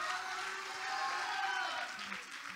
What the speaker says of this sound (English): Can somebody clap your hands, and can somebody shout hallelujah?